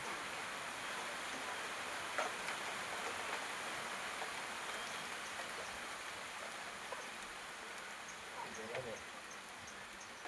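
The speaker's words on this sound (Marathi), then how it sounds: "बघा मित्रांनो, पाऊस पडतो कसा." The first monsoon rain falls on open ground in a Marathi village, a soft, steady hiss of light rainfall with a few scattered louder drops throughout.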